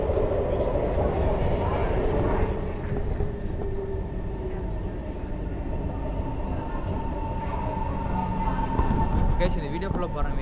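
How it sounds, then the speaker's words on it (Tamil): A Singapore metro train pulls into a station with a steady, loud rumble and rail noise that continues throughout, while voices chatter in the background. "இது வந்துச்சு எங்கள் ட்ரெயின்"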